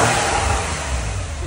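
A Porsche 911 engine with factory exhaust tips roars in a loud, continuous rev, a dense broadband exhaust drone sustained throughout the short burst.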